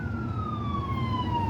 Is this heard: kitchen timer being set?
no